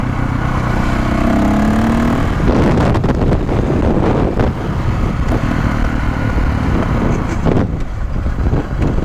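Dirt bike engine revving hard for a wheelie beside a Toyota Supra, a loud buzzing roar that swells and surges across the clip, heavily buffeted by outdoor wind noise.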